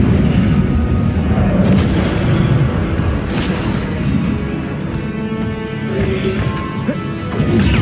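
A fire spell is cast in Hogwarts Legacy, giving a loud, sustained roaring burst of flame with crashing impacts, filling the whole stretch at high level.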